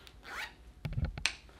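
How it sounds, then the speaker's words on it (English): A hidden zipper on new Tailored Life Apparel shorts is pulled open, a short rasping zip followed by a few closer clicks and tugs as the fly opens, with no talking. "Open my hidden zipper of my new Tailored Life Apparel shorts."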